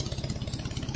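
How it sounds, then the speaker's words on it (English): The engine on a Minimax 1100R wooden aircraft runs close by with a steady, rapid, low pulsing idle and no voices. "got the engine running"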